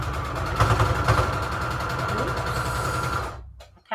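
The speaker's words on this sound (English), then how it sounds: "let me get a nice sewing machine here. And again, I'm just using straight stitch here." A sewing machine runs a straight stitch through patchwork fabric, giving a close, steady mechanical whir with rapid rhythmic needle ticking for about three seconds before cutting off abruptly into quiet.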